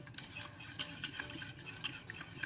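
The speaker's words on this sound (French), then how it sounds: "on va bien mélanger," A utensil stirs a dissolved gelatin mixture for a pear speculoos entremet in a bowl, giving quiet, repeated scraping clinks in a loose rhythm, close and soft.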